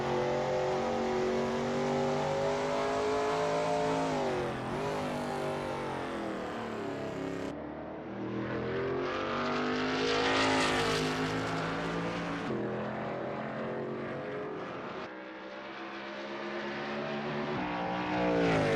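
A Shelby Mustang GT350R race car in a racing game lapping Sebring, its engine droning loud and steady, pitch sweeping up through the gears and dropping at shifts, with no talk over it.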